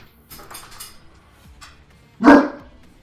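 Dogs barking inside a room, with soft clatter and movement before a single loud, close bark near the end.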